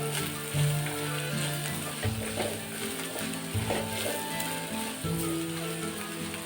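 Grated coconut fries in a pan for a dried prawn chutney, giving a steady soft sizzle with faint rattling as it is moved around, close and continuous, with no speech.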